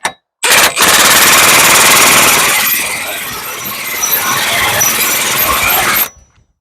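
A loud impact wrench snugging the front hub bolts on a 2012 Chevy 3500HD truck, a near, sustained rattling burst of about five seconds that eases slightly partway through, with no talk over it.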